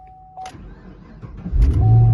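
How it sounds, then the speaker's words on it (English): A 2013 Chevrolet Camaro ZL1 engine is started with the key, a brief cranking rising into a loud, low, steady idle rumble close by. "Key turned to start. There we go. Engine running."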